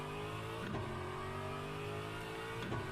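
Aston Martin Vantage GT3 race car in Le Mans Ultimate sim racing, engine droning steadily at high revs with a couple of sharp gear-change barks, constant and fairly loud throughout.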